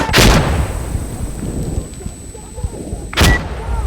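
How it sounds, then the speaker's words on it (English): Two loud, booming blasts in the shooter game Insurgency Sandstorm, one at the very start and another near the end, separated by quieter rumbling game ambience and faint gunfire. "I'm throwing a grenade"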